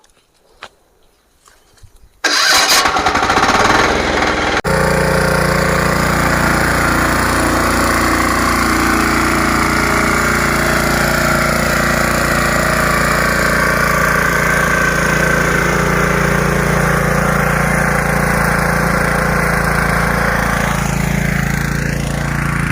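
An 11 HP power weeder engine, push-button started, sputters to life and then runs steadily at a loud, constant drone, with faint clatter before it catches, in a sugarcane field.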